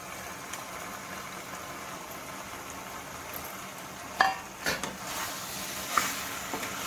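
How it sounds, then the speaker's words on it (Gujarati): Boiled pasta being stirred with spices in a hot pan, a soft steady sizzle with scraping spoon strokes, a few sharper clacks of the utensil against the pan near the end. "પાસ્તાને આપણે સારી રીતે ચલાવી લઈશું."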